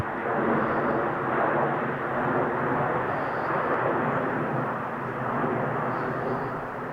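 Steady broadband roar of an aircraft engine near Cotswold Airport in the Cotswolds countryside, a continuous loud rumble that swells and eases slightly without pause, with no talk over it.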